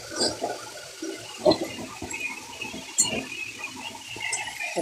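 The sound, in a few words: water poured into white poppy seed paste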